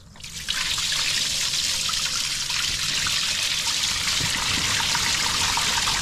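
Water trickles steadily into a boat's hull past a PSS shaft seal bellow that is split or failing, a continuous close hiss and gurgle with no talk.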